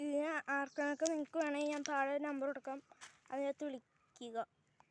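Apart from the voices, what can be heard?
None of the usual background noises is heard.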